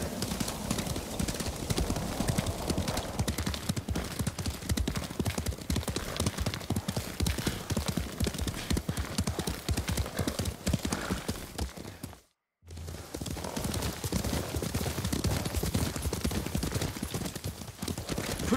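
A horse gallops in the video game Ghost of Tsushima with fast, heavy, continuous hoofbeats close up. A brief dropout interrupts the run near the end before the galloping resumes.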